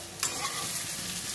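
Potatoes and an onion fry in oil with a continuous close sizzle, and one brief clatter of stirring near the start.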